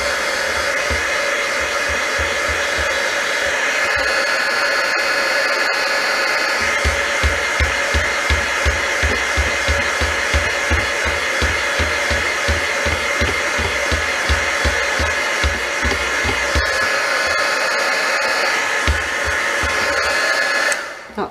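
A handheld heat tool blows a loud, constant roar over gesso and white paint for about twenty seconds, with a low rapid fluttering pulse through most of it, then cuts off.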